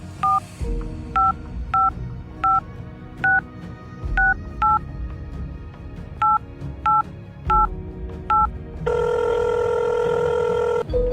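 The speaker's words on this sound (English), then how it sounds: "she took the telephone and dialed a number" A telephone number dialed by hand: a series of short evenly spaced touch-tone beeps in small groups with pauses between, clear and close, ending with a longer steady tone.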